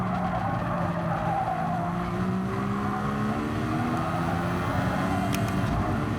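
F1500T race car from Gran Turismo Sport lapping Monza without the chicane, its engine whining steadily through gear changes with tyre squeal on corners, loud and continuous throughout with no talk.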